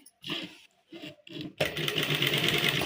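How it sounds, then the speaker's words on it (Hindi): Sewing machine stitching a loose pant seam: short start-stop bursts of whirring stitching, then a longer steady run of the motor, close and clear with no talking. "ऊपर तक सिलाई मार देंगे।"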